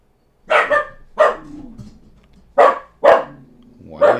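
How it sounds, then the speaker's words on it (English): A dog barks close by in a series of sharp, separate woofs, about five barks spaced unevenly over a few seconds in an otherwise quiet indoor setting. "Why are you barking, Maxie?"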